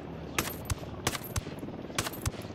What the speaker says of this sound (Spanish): ¿cuántos tiros hay que darle a este hombre?